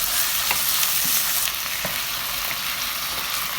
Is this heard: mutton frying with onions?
yes